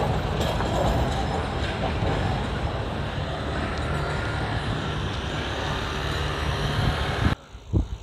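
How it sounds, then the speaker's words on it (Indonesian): Mini train running at the Taman Mini Indonesia Indah park, a steady loud rumble that rolls on for about seven seconds before cutting off, followed by a couple of brief thumps. "Kereta mini ya."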